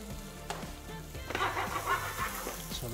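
Shallots sizzling in a hot pan with a little garlic oil and a pinch of salt, a steady close crackle with brighter bursts in the middle, no talking.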